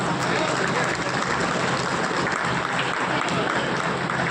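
Loud, sustained applause from an audience at a community award ceremony in Pilkhva, steady dense clapping filling the whole stretch with a faint voice beneath.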